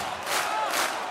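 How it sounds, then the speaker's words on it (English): A live concert crowd roars and cheers in a brief swelling wash of voices, loud and distant-sounding. "Listen to the crowd,"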